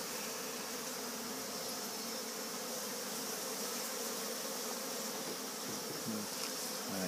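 Honey bees buzz around hive frames in a dense, continuous drone that holds steady and close throughout, with no talk.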